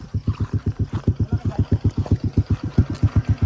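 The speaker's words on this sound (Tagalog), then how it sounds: "Motor." A motorcycle engine chugs nearby in a steady, even run of low thumping pulses for several seconds, loud and close, with faint background noise.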